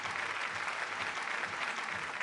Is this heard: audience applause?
yes